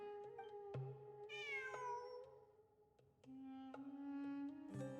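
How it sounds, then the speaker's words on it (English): A cat meows in Genshin Impact, several rising and falling meows spaced across a quiet scene with soft music or ambience beneath, fairly faint overall. "I'm not hearing things. It really is a cat."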